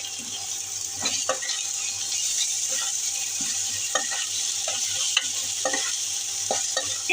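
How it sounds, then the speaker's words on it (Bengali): Green chilies and spices frying in a pan for a spicy poa fish curry, with a steady close sizzle and occasional scraping stirs of a spoon against the pan. "কাঁচা মরিচ ভেজে নিব"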